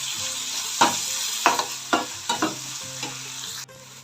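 Tomatoes sizzle steadily in a hot pan for a chicken pepper roast while a spoon scrapes and stirs in several sharp strokes, close and continuous, ending with a sudden drop in the sizzle.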